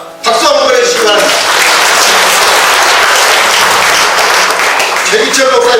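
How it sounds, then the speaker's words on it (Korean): Audience applause at a poetry book launch for poet Choi Gyu-cheol, a dense sustained clapping that swells in quickly and holds steady and loud, with a voice briefly audible at the start and end. "박수 한번 보내주시기 바랍니다."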